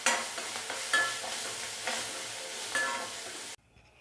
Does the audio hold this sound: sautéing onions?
yes